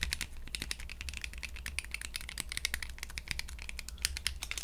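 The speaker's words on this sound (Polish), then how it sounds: "Te switche są dodatkowo przesmarowane, posłuchajcie." Rapid, dense typing on a GMMK3 HE gaming keyboard with soft, muted clicks from well-lubricated switches, close up and continuous without any talking.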